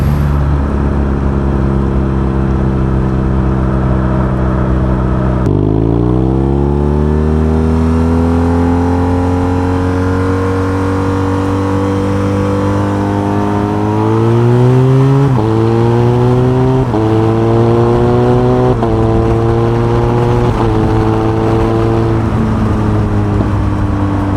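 A motorcycle with a quickshifter pulls hard through several rapid upshifts, its engine note climbing steadily then dropping briefly at each crisp shift, loud and close throughout with no talking.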